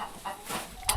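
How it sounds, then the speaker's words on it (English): Chickens on a family farm cluck in short, close bursts, one brighter squawk near the end. "So you can see now it's full of chickens"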